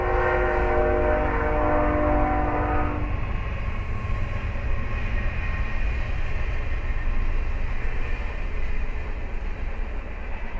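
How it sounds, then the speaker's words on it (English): A train passes close by; its horn blares for the first few seconds, then gives way to a steady, loud rolling rumble of the cars going past. "there's a train going by here."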